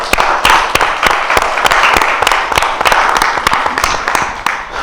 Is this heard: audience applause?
yes